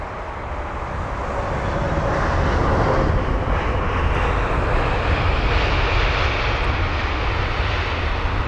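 Airliner touching down at London Heathrow, a broad roaring jet engine rush that swells over a few seconds and holds loud and steady, with wind noise in the background.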